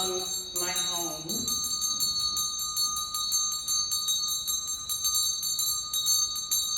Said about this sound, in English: This is my special bell. I brought it from my home.